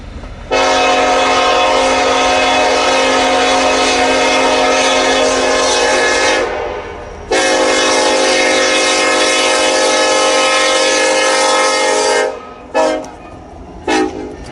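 A Missouri Pacific train crossing a diamond blows its horn in long, loud, steady blasts, two sustained sounds broken by a short gap, then a few brief toots at the end.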